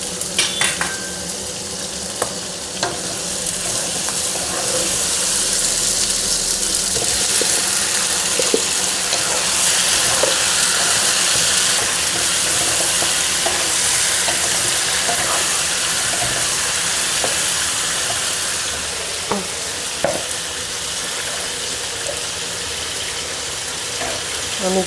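Onion, potato and chicken frying together in a pan for a Bengali chicken stew, a steady broad sizzle running throughout with occasional stirring clicks and scrapes, close and fairly loud.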